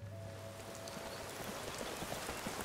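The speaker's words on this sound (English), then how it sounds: "Is it just me, or does it always seem to be raining when we come down here?" Rain falling in Skyrim, a dense, steady patter of drops on surfaces filling the scene at moderate loudness, with a brief low tone fading early.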